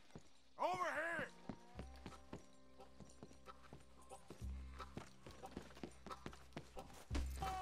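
Horse hooves clip-clop at a steady walking pace in Red Dead Redemption 2, fairly close and distinct, with a few louder game sounds and brief voices mixed in.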